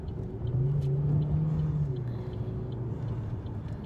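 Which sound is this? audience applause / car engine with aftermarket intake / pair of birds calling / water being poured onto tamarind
car engine with aftermarket intake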